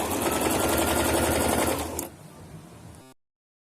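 A sewing machine runs loudly and fast for about two seconds while stitching through a fabric joint, then slows with lighter mechanical rattling before stopping.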